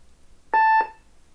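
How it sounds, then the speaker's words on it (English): A single steady electronic beep with a bright tone from a 1988 Team Concept Junior Computer kids' toy lasts about a quarter second, clear and close, in an otherwise quiet room. "If you don't give it attention, it just starts beeping at"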